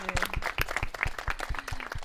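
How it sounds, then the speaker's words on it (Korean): Applause breaks out from the audience at a Korean presidential radio and internet address special, a live public dialogue event; sparse, uneven claps ring out at moderate distance for about two seconds with no voices over them. "박수 한번 부탁드리겠습니다."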